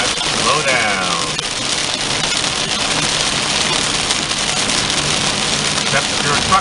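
Heavy rain drums steadily on a Suburban driving north on I-75 out of Knoxville, a loud continuous wash of water and road roar with someone talking over it.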